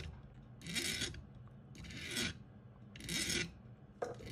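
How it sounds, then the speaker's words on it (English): A hand file rasps around the rounded edges of a split-shank marquise ring held in a ring clamp, giving four distinct close-up scraping strokes with brief pauses between them. "you're gonna just take your file and start curling it around"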